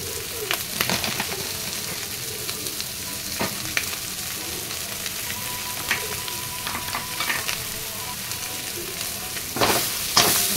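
Food frying in a pan with cumin powder, coriander powder and salt, giving a steady close sizzle broken by scraping stirs and clinks of a spoon, with no talking.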